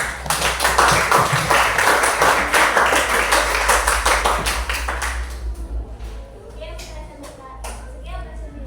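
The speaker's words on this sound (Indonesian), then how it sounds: "Kasih dulu tepuk tangan untuk" Classroom applause for a student group's presentation, a dense burst of many hands clapping for about five seconds, then thinning to a few scattered claps under low room chatter.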